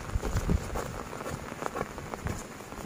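Steady rain pours down on a rural farm during a multi-day downpour, a dense, continuous patter on surfaces with scattered heavier drops, moderately loud and without voices.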